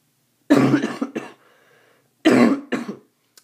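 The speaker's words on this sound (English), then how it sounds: "I have a little cough." A man coughs in two close, harsh bursts, each a quick pair of loud rasping hacks, with a short quiet gap between them.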